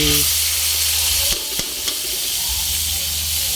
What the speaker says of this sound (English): Just gonna add water, oil, and fry the garlic and onions.